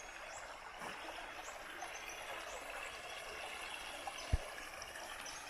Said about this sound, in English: A few little mini rapids here.